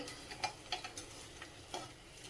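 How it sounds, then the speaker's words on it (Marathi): Edible gum (dink) frying in hot ghee, heard as faint quiet crackles and small sharp pops at irregular intervals over a soft hiss, close by. "हा डिंक फुलायला लागल्यानंतर आपण डिंक तळायला घेऊया"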